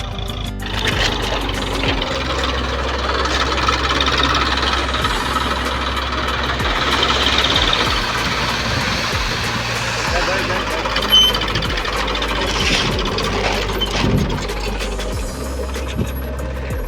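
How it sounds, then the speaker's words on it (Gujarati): A tractor engine runs steadily during wheat sowing in a field, a continuous rumbling drone with mechanical clatter that stays fairly close throughout, while people talk nearby. "અહીંયા ટ્રેક્ટર આવી ગયું"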